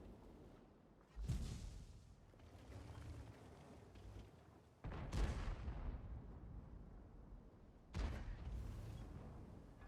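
Tank cannon shots from a World of Tanks battle against an IS-4, three heavy booming blasts spaced a few seconds apart, each followed by a long rumbling decay, loud and close with no talking.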